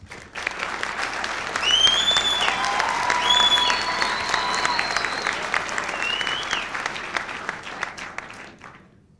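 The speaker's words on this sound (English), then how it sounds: "Give yourselves a round of applause." A large graduation ceremony audience claps steadily for several seconds, with a few shrill whistles rising above the applause before it fades away.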